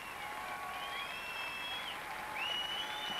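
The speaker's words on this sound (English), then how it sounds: "warm applause" Faint, distant applause for a bronze-medal couple at the 1995 ten-dance world championship in Aalsmeer, a soft hall-wide patter with gliding whistle-like tones drifting over it.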